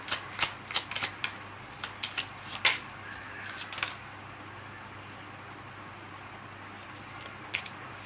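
Tarot cards being shuffled and drawn: a string of crisp card snaps and flicks, close and fairly loud, bunched in the first few seconds, then a lull and one last soft snap.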